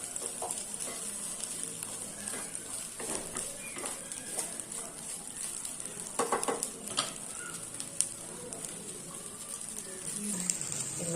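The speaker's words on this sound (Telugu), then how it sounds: "ఇలా ఫ్రై చేసుకోవాలి అంటే ఈ స్వీట్ కార్న్ ఉండే తడి కొద్దిగా పోవాలి" Sweet corn kernels frying in a pan give a steady, moderately loud sizzle with occasional stirring scrapes and clinks, running continuously with no voices.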